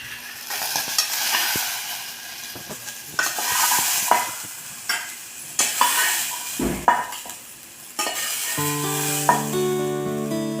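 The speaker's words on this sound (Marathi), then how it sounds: "हे बघा, असं आपल्याला वाटाणा भाजून घ्यायचा" Green peas roast in a dry pan (kadhai), rattling and scraping as they are stirred, with loud bursts of sizzling and clanks of a spoon against the metal.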